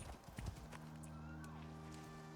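Horse hooves clip-clop briefly in the survival video game Icarus, a quick cluster of close hoof knocks at the start. A steady low game hum carries on afterward.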